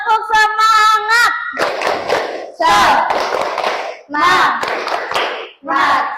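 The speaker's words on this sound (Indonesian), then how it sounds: "Tepuk semangat" A classroom group performs a rhythmic spirit clap in bursts, sharp hand claps mixed with children's chanting voices, loud and close, in several short rounds.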